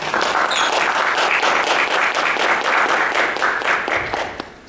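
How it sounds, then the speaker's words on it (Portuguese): A seminar audience at a culture event in Mogi das Cruzes breaks into loud, dense applause as a guest is called to the stage, clapping continuously and close for nearly five seconds. "Uma salva de palmas."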